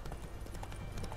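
A horse galloping at full speed in The Witcher 3 sounds as rapid clip-clop hoofbeats, brief and fairly close, with no voices.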